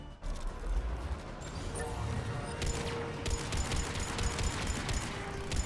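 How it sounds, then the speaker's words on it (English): Gunfire at a turret in Mass Effect 3, rapid repeated shots in a dense clattering rhythm over constant combat noise, fairly loud and close. "I'm shooting at the turret."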